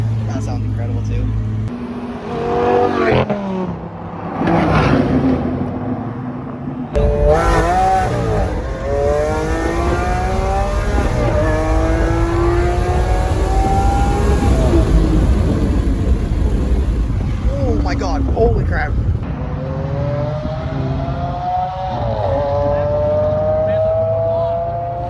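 Lamborghini sports car engine accelerating hard, rising revving sweeps climbing through gear changes over about twenty seconds, loud and close, with people talking over it.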